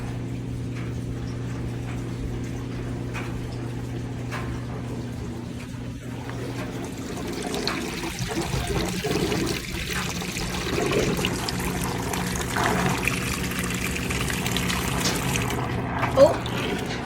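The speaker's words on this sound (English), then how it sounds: "they're just finished draining, so now it's gonna do its rinse cycle" A Kenmore 100 high-efficiency washing machine drains water in a steady trickling, pouring flow with a constant low hum of the pump underneath, close by and moderately loud throughout.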